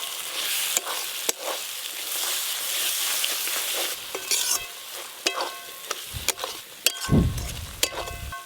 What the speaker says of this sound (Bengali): এইভাবে নাড়তে নাড়তে মশলা আর একটু ভালো করে কষিয়ে নেব।